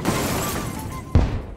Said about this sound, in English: We are gonna create an explosion right here.